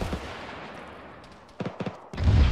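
Rocket and gunfire in the ArmA 3 video game, aimed at an armored vehicle: a few sharp bursts of shots, then a louder low rumbling blast at the end.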